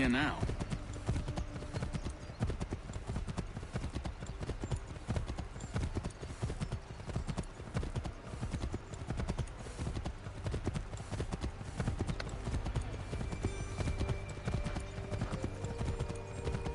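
Continuous clip-clop of horse hooves in the busy game soundscape of Assassin's Creed 3 Remastered, steady hoofbeats with a voice talking over them.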